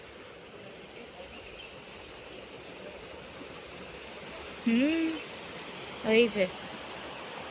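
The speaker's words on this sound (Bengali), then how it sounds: "আমি একটা ঝর্ণার আওয়াজ পাচ্ছি।" A distant waterfall gives a faint, steady rushing wash throughout, with a person's voice breaking in briefly twice near the end.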